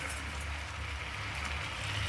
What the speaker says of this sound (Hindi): अब हम डाल रहे हैं इसमें ग्रेवी के लिए पानी